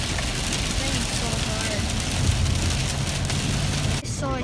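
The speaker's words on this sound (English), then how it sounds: "It's so hard, it's raining." Heavy rain pours down during a road trip to L.A., a dense, steady hiss and patter that stays loud and unbroken for the whole stretch, with a brief dip near the end.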